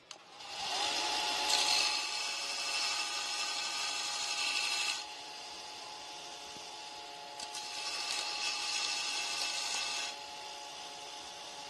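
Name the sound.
grinding metal on a fuel tank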